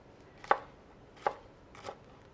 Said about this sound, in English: Just chopping it up.